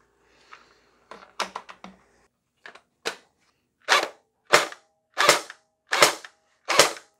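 An upgraded Splatterball SRB400 gel blaster with metal gears and a strong spring, run on its original battery, fires several loud, sharp shots, first in a quick irregular burst and then as five evenly spaced single cracks, close up with no talking.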